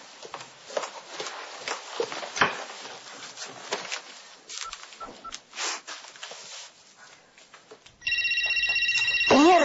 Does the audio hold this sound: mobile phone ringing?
yes